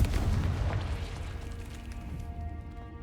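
A Confringo blast spell from the Hogwarts Legacy video game lands as a heavy booming explosion right at the start, its low rumble decaying steadily across the rest of the moment with no voices over it.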